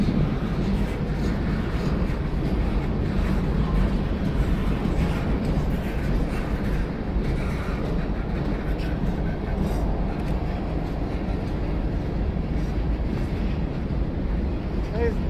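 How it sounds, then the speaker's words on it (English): A freight train rolling past on the rails, a steady loud rumble and roar of cars that holds level for the whole stretch, with wind buffeting the microphone and no clear break in the noise. "That was the last freight car."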